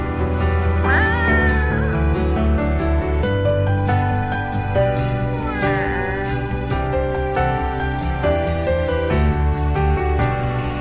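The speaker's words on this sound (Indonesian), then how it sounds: "yang kalian amati tadi adalah gambar kucing" Cat meowing, two short meows heard over continuous loud background music.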